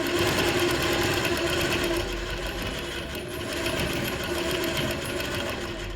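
A sewing machine runs steadily, stitching fabric and adding sleeves along one side of a garment in an overlock-style seam, with a continuous loud mechanical whirr that dips slightly midway and carries on alone.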